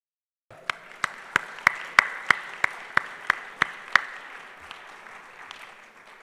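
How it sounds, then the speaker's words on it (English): Conference audience at an ownership conference in Jakarta breaks into applause, a moderate crowd clapping with one close, loud clapper striking a steady rhythm of sharp claps before the sound thins out and fades. "So a big applause."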